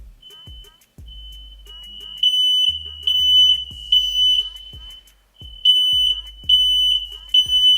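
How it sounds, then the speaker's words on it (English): A home smoke alarm, set off by an oven while chicken wings cook, chirps in rapid repeated high beeps. Bursts come in groups with short gaps, loud and close, and low thumps sit underneath. "every time he's opened that oven, the fire alarm goes off"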